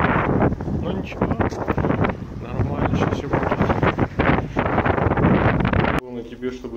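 Strong wind buffets the microphone in loud, gusty roars, with a voice speaking through the rushing noise near the end.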